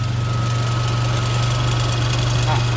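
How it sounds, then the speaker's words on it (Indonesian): Honda Civic turbo engine idling steadily up close with a low rhythmic hum and a faint repetitive clicking from an unhealthy turbo, a voice briefly audible over it. "Untuk turbo sendiri yang tampaknya kurang sehat itu seperti ini. Ada bunyi krik."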